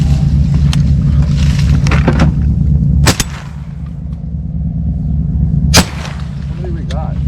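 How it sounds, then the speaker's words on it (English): Two loud, sharp shotgun blasts about two and a half seconds apart ring out during a duck hunt from a boat at Venice, over a steady low boat-engine rumble. "shoot that one going by you, Steve."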